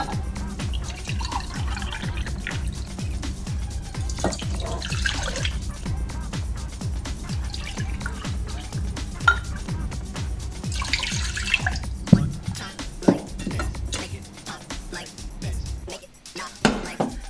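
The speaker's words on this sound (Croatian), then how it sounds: "Sada u šerpu sipamo 2 čaše vode." Two glasses of water pour into a cooking pot with rosemary and cloves for tea, a continuous close splashing and trickling that runs on steadily, with a few small knocks near the end.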